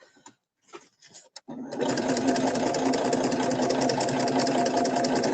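A sewing machine runs steadily after a few short taps and pauses, its close, even whirring hum continuing for several seconds as it stitches across fabric, with no talking over it.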